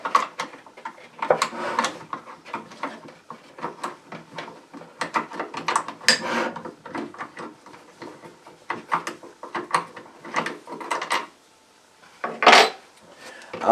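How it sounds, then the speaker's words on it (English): Metallic clicks and ratcheting taps as a 5mm Allen wrench loosens the stock bolt on a Hatsan Blitz air rifle, irregular close handling sounds with small knocks throughout. "5mm Allen wrench. To take this bolt right here out."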